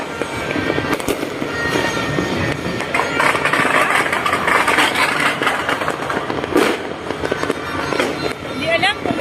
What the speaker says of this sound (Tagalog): Mas madaming paputok,